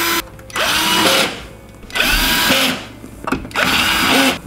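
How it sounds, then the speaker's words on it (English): Power drill driving short screws into a KitchenAid dishwasher panel during a repair, three close, loud whirring bursts of about a second each separated by short pauses, with no talking. "Proceed to put the rest of your short screws in."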